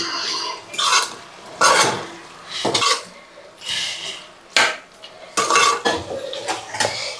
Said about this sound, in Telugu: వేసుకొని బాగా కలబెట్టాలి,